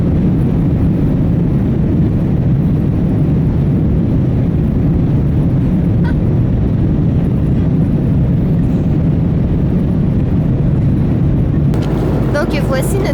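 Airplane cabin noise during flight, a loud, steady broadband roar that holds level throughout, with a brief rustle near the end and people talking over it.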